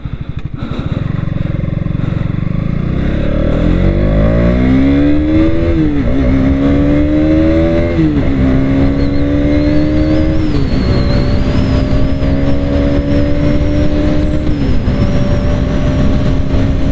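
A KTM Duke 200 BS6 2021 motorcycle on a test ride, its single-cylinder engine loud and close as it revs up through the gears, pitch climbing and dropping at each shift, then settling into a steady high drone.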